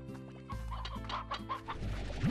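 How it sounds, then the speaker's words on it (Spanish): Chickens in the video game Slime Rancher, several close, clear clucks and short squawks in quick succession over a soft game background. "Mira, gallina."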